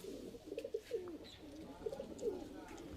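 High-flying Giribaz pigeons coo in a series of soft throaty calls near at hand, rising and falling in short rolling phrases, with faint voices in the background.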